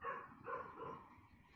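A dog barking somewhere in a house, two or three muffled, faint barks in quick succession heard through a phone or call line, with no talk over them.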